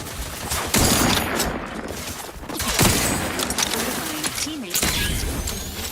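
Gunfire in the video game The Outer Worlds 2: bursts of rapid shots with mechanical weapon clatter, loud and close, in several volleys across the scene.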